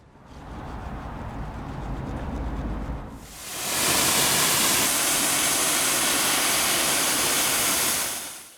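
A pressure washer jet blasts a BMW Z4 3.0si Sport Coupe. A lower rumbling spray gives way to a loud, steady, broad hiss of water striking the car that holds for several seconds before easing off, with no talking.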